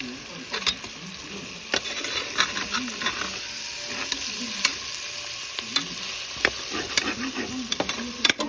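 Spice powder being stirred in a pan for sambar rice makes a soft, steady sizzle punctuated by repeated sharp scrapes and clicks of the spoon against the pan, close and fairly quiet.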